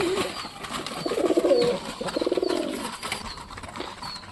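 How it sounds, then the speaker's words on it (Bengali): Giribaz pigeons gathering to eat scattered feed, with a few soft, throaty cooing calls in short rhythmic bursts close by over a quiet outdoor background. "খাওয়ার দেওয়ার সঙ্গে সঙ্গে সব কবুতরগুলো নামছে, দেখো কত সুন্দরভাবে খাচ্ছে"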